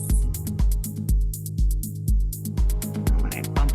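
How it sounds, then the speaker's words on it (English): Electronic dance track thumping on a steady four-on-the-floor kick with crisp hi-hats, its midrange scooped out so the bass and highs stand apart, playing alone without talk. "Here's what it sounds like when I take out the mids"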